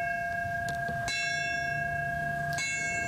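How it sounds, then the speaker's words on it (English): Fire department bell rung outdoors at a 9/11 memorial ceremony, two clear metallic strikes that ring out and sustain over faint background noise. "The department rang a bell,"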